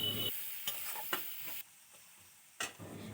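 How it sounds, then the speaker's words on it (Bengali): Onion, chilli, garlic and turmeric frying in a home kitchen pan, a steady close sizzle broken by a few sharp scraping stirs, with no talking. "ভালোভাবে লাল লাল করে ভেজে নেব।"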